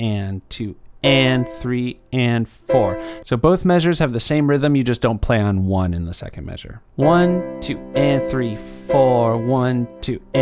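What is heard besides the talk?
None of the usual background noises is heard.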